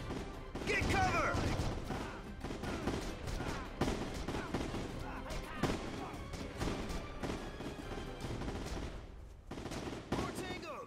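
Video game gunfire from the shooter Heavy Fire: Shattered Spear, dense rapid bursts of machine-gun and rifle fire with crashes and impacts, continuous and loud, with voices calling out beneath the shooting.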